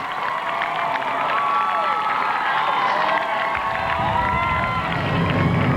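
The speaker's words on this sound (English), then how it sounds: "And the crowd is tremendous, greeting this men's lead pack." A huge roadside crowd at the 2000 Boston Marathon cheers and roars continuously as the men's lead pack passes the halfway mark, a loud, dense wall of sound throughout.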